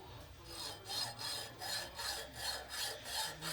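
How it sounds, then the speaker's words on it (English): Hacksaw cutting through a metal fuel-system fitting clamped in a vise, a steady rhythmic rasp of about nine even back-and-forth strokes, close and clear with no talking. "You can just hacksaw it right off."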